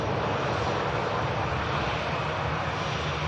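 A Malta Air airliner, a Ryanair subsidiary arriving from Lisbon, touches down at Manchester Airport, its engines giving a loud, steady, broadband roar that holds without a break.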